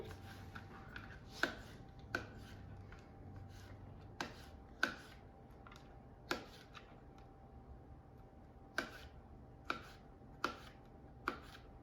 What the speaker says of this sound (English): I'm going to chop them and add them